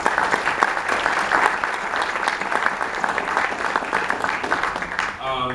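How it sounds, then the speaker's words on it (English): An audience at an anniversary event marking the Attica prison killings gives a sustained round of applause, dense steady clapping that fills the room before fading into a brief voice at the end. "One more time, please, a round of applause."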